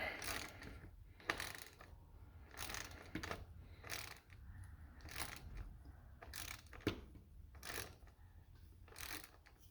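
A ratchet tightens the wheel nut on a Traxxas Stampede Bigfoot RC truck axle, giving repeated bursts of quick metallic clicking separated by short pauses, fairly quiet.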